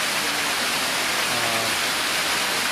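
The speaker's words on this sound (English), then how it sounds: "You see the water has obviously considerably increased in flow." Steady, loud rush of water flowing through a ProFlex series check valve during a flow test at roughly 13 to 15 feet per second, a continuous broadband hiss with no breaks.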